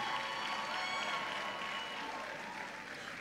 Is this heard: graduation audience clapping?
yes